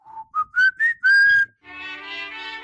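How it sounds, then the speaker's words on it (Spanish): A person whistles a short melody alone: several clear, rising notes with brief gaps, then a long held tone that gives way to a softer, fuller sustained sound. "yo empezaría silbando desde lo más profundo de mi corazón, a ver si reconocen esta melodía"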